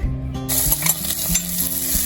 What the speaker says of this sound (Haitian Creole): m'a frit les oignons en premier lieu.